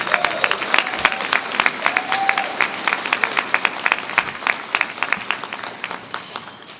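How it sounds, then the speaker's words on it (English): Applause from a commencement audience celebrating a graduating class, dense steady clapping throughout with a few whoops and cheers rising above it, moderately loud and continuous. "You should be clapping."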